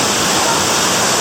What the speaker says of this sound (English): we're heading for the waterfall